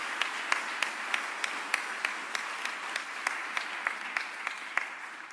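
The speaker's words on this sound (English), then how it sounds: "One more round of applause for Mayor Parker" Audience applauding for a city mayor at a cycling race announcement event, a steady crowd clapping with sharp individual claps standing out throughout, moderately distant.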